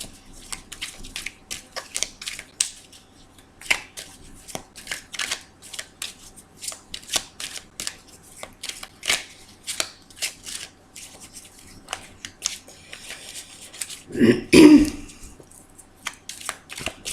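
Oracle cards are shuffled for a Friday reading: soft, repeated riffling and slapping bursts in an irregular rhythm, close by, with a louder flurry near the end and occasional faint movement between.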